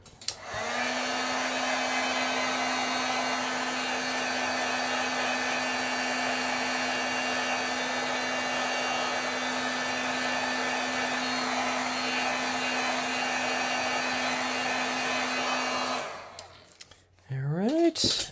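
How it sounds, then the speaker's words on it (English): A handheld heat tool blowing hot air to heat-set acrylic paint in a craft studio, a loud, steady whirring hum that runs continuously for about sixteen seconds before it is switched off and followed by a handling clunk. "I'm going to heat set it a little bit."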